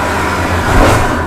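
A BMW E9X M3 with individual throttle bodies and an Eventuri intake plenum revs hard in a short, loud burst, with the induction roar swelling to a peak before easing off.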